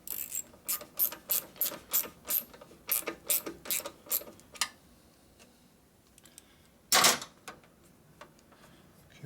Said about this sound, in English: And tighten up the clamp.